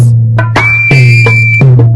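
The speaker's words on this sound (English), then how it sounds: "What's whistling anyway? You put your lips together and blow like this." A person whistles through pursed lips in a long, sustained, fairly loud high tone, with breathy onsets and a low hum beneath it.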